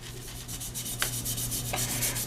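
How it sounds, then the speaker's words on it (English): Abrasive scuffing of a glossy game controller shell, a steady close rasping rub with a quick rhythmic back-and-forth stroke and a faint constant hum beneath. "Scuffing the controller is real easy."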